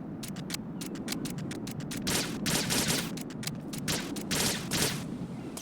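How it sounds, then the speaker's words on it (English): Gunfire in the stealth action game Metal Gear Solid 2: Sons of Liberty, a rapid string of sharp automatic shots in quick bursts over a hissing background, fairly quiet overall, no speech. "I was shooting the corner the whole time"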